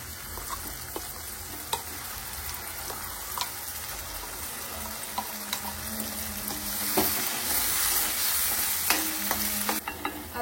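Ground spice paste sizzling in hot oil after ginger-garlic paste, stirred with frequent clicks and scrapes of a spoon against the pan, close up; a brief splash of running water joins near the end, no voices.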